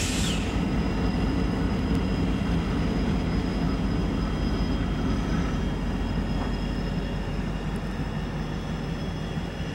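An electromotive-built locomotive backs a train along a track by the canal, making a steady, continuous low rumble with faint high tones that stays constant, with no talking.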